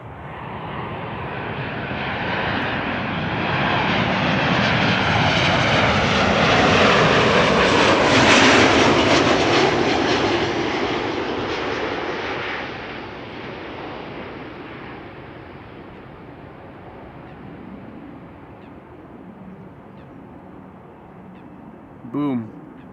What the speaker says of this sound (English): KLM arriving from Marseille.